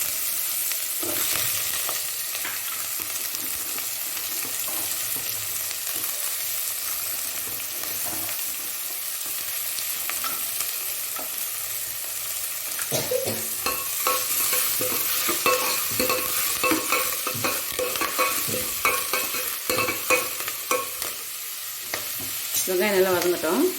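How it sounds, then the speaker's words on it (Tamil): Onions frying in hot oil with fenugreek for a Tamil fish curry, a continuous close sizzle with scraping stirs that grow busier toward the end, and no talk. "வெங்காயம் நல்லா வதங்கட்டும்."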